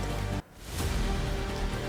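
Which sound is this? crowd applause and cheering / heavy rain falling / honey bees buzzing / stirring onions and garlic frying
heavy rain falling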